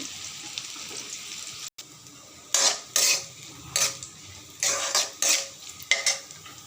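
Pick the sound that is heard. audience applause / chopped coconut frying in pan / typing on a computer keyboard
chopped coconut frying in pan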